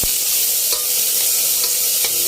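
Tomatoes sautéing in a pan for tawilis fish sinigang, a loud, continuous hiss of oil with a few soft utensil knocks, close by and without speech.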